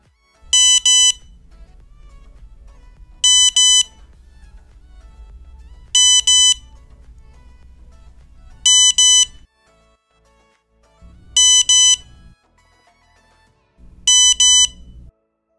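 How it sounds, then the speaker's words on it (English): An Arduino electronic buzzer alarm beeps in short double bursts at regular intervals, about every three seconds, sharp and loud over a low background hum. "the buzzer will turn on"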